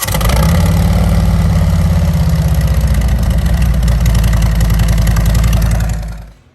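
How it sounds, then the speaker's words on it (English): A Harley-Davidson Milwaukee 8 motorcycle engine, just serviced with an oil change, loping at idle with a loud, close, pulsing rumble that runs steadily before being shut off and fading at the end. "We're going to fire it up and let it run for a minute or 2."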